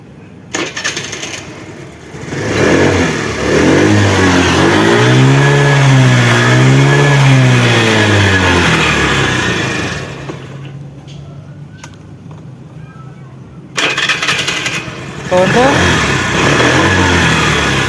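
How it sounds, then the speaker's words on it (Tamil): A vehicle fitted with a new self-starter motor, its fault traced to the power coil, cranks and catches, then revs up and down loudly in a rising and falling sweep, drops to idle, and revs again near the end. "வண்டியில் இருக்கிற செல்ஃப் மோட்டரே போட்டு நம்ம ஸ்டார்ட் பண்ணி பார்க்கலாம்"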